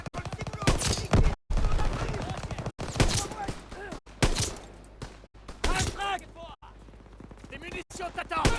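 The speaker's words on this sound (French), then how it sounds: "Ça, c'est du tir." Gunfire in the World War II shooter Call of Duty WWII: loud rapid bursts of rifle and machine-gun fire, with soldiers shouting and talking over the fighting.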